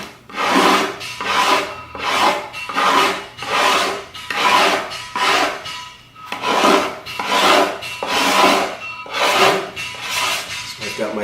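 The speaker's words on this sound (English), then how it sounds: "with my cabinet scraper, this one feels good, I can simply scrape and start to get the round" A cabinet scraper rasps repeatedly along the edge of a wooden skateboard deck, giving roughly a dozen close, loud scraping strokes in a steady back-and-forth rhythm, with no talking.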